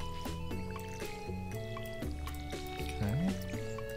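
Crops being watered in the farming video game Stardew Valley, a brief splashing, pouring sound from the watering can set against steady, plucky game music.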